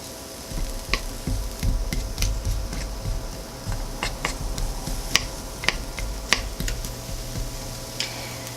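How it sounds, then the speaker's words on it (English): Tempeh gently sizzles and crackles in a pan, with scattered sharp pops and ticks over a low steady hiss. "I think you can start hearing it sizzle."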